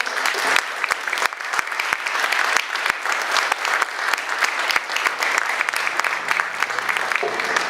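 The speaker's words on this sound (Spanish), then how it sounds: "No, gracias a ustedes y un aplauso." An audience at a book presentation applauds steadily for several seconds, dense clapping filling the room with a few sharper claps standing out near the start.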